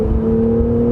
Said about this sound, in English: you can hear that exhaust right behind me